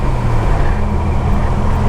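Steady, close drone from a 1987 Buick Turbo T engine held at partial throttle, mixed with even road noise and no voices.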